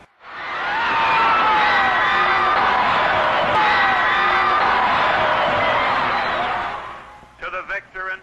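A large crowd at an Orange Bowl football game roars and cheers loudly for several seconds, the dense wall of voices fading out before a few short shouted bursts close it.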